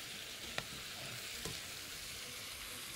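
Chicken with potatoes and corn sizzles softly and steadily in a pan, with two brief knocks of a spoon as it is stirred; quiet overall and no talking.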